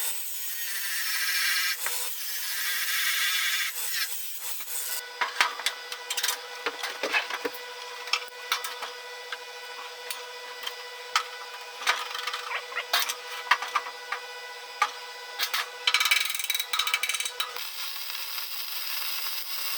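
A power tool grinding material from a welded steel rack in a workshop, a steady high whine that stutters into rough scraping bursts as it bites the metal, loud and close.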